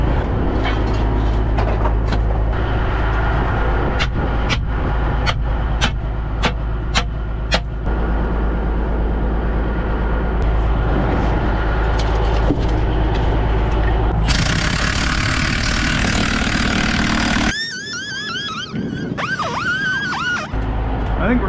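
A Kenworth Texas bed truck's engine cranks with a rapid ratcheting clatter, then catches and runs with a loud, steady low diesel rumble, while voices talk over it near the end.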